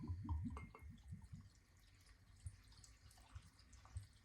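Aldi whiskey poured into a tomato sauce jar: a burst of gurgling, splashing liquid in the first second, then sparse soft drips and small trickles, close and quiet.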